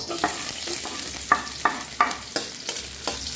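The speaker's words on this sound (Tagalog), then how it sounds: "Maglagay na tayo ng mantika. Igisa na tayo ng bawang." Garlic sautéing in hot cooking oil, a soft continuous sizzle broken by a series of sharp scraping stirs of a utensil in the pan, about ten strokes in a loose rhythm, fairly quiet and with no voices.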